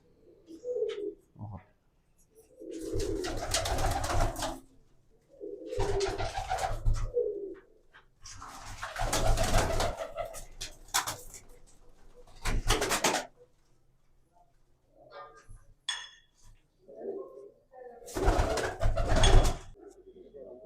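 Pigeons coo in repeated soft bursts, with pauses between them, fairly close, and a few other bird calls.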